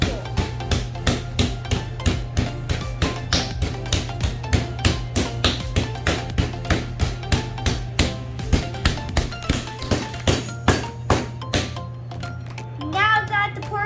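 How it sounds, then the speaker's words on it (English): Rapid, steady meat mallet taps on pork tenderloin, dozens of evenly spaced blows close up over a low hum, continuing for most of the clip. "Make sure you hammer all around to make it equal."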